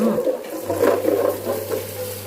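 Jackfruit seeds being rinsed in water before boiling, a short burst of sloshing and splashing with a steady low hum underneath.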